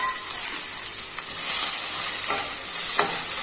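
Onion sautéing in hot oil for a soya chunks curry makes a loud, close, continuous sizzle and hiss with a few soft stirring clicks.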